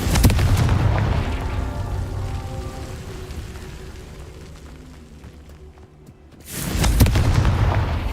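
A Confringo fire-blast spell erupts in Hogwarts Legacy, a loud booming burst that rumbles and crackles before fading, then a second heavy blast bursts in near the end.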